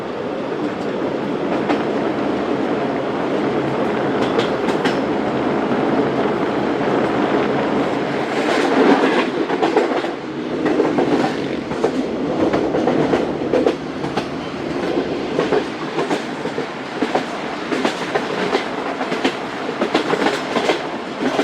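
The Karachi Express, a non-stop passenger train, runs over the rails with a loud, continuous rumble and rhythmic clickety-clack from the wheels, heard close from on board with no talking throughout.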